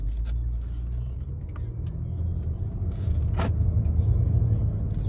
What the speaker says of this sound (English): go ahead and take on a quick test drive